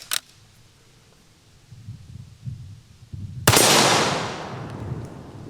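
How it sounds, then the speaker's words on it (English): A single loud 6.5 Creedmoor rifle shot fired at a steel target outdoors, a sharp crack with a decaying ring after a few seconds of quiet low rumble. "This might be the most powerful gun I've ever shot at that steel"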